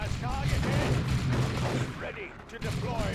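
Bolt guns fire in a Warhammer 40,000: Dawn of War 2 Space Marines versus Chaos Space Marines match: a dense, steady run of rapid shots heard close up under a commentator's voice, thinning briefly near the end.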